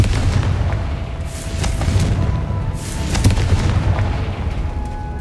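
Confringo, a fire spell in the video game Hogwarts Legacy, sets off loud booming blasts with several sharp bursts over a deep rumbling roar, close and continuous.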